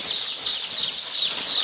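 Young Bovans Brown layer chicks in a poultry brooding room flap their wings in quick, soft, rapid bursts, a near fluttering rustle that rises and falls repeatedly.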